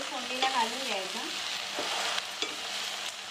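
Chopped vegetables, including raw banana, sizzle steadily in a hot oil tempering for a Rushi Panchami vegetable dish, with a few sharp stirring scrapes of a spoon against the pan, close and moderately loud, with no talk.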